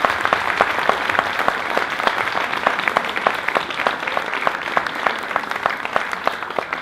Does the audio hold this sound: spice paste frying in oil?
no